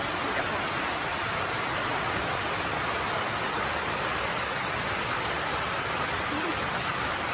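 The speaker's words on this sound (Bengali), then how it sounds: "যখন তখন বৃষ্টি চলে আসছে যখন তখন বৃষ্টি" Steady, heavy rain pours down without a break, a dense wash of falling water.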